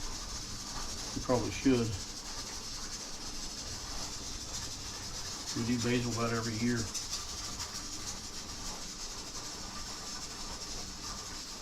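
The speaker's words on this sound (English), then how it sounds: "that rocking noise in the background is, that's the weight on the canner" A pressure canner's weight rocks and hisses steadily in the background while tomato sauce is canned, with two short bursts of louder clattering and people talking quietly over it.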